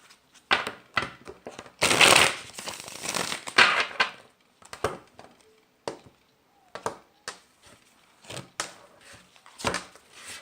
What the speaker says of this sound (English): I'm going to give it one more shuffle.